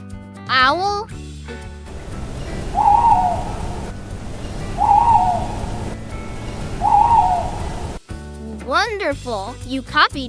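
An owl hoots three times at even intervals, soft, low calls over a hissy backdrop, framed by brief bright calls and a spoken voice at the start and end.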